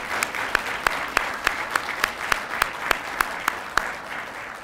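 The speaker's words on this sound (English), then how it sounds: "Let's give all of those folks I've thanked a round of applause." A courtroom audience gives a round of applause, a fairly loud steady patter of clapping with sharp, regularly spaced louder claps standing out at a brisk, even rhythm.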